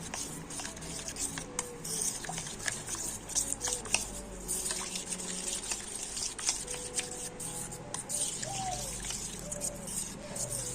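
Flour and cornflour being stirred into a batter with water, giving soft wet trickling and squishing sounds that run steadily at a low level throughout, with faint background noise.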